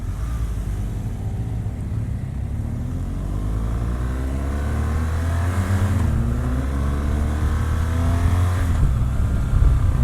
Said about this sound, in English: Signature boxer twin sound.